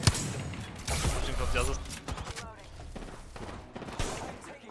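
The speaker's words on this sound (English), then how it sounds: "There's a team coming, shooting far behind us." Gunfire from an enemy team in the Apex Legends battle royale game, bursts of shots and thuds cracking in and out amid busy in-game action and chatter.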